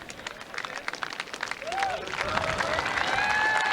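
A race crowd at Royal Ascot cheers as horses come over the last jump, a broad swelling roar with scattered clapping that builds and holds loud to the end, with an excited voice calling over it.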